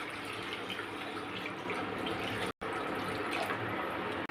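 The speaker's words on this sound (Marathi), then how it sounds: "कढईमध्ये मी पाणी ओतते" Water pours steadily into an aluminium kadai being cleaned, giving a continuous splashing rush. There is a brief break midway before the pouring resumes.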